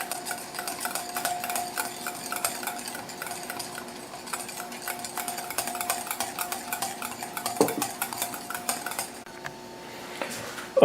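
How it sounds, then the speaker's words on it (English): A utensil scrapes and clinks steadily against a bowl while peanut oil is slowly stirred into a sauce, a constant, moderately quiet rhythmic stirring. "Now I'm going to start adding the peanut oil. Again, slowly and stirring constantly."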